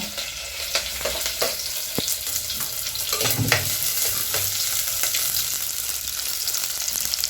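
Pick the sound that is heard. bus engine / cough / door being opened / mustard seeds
mustard seeds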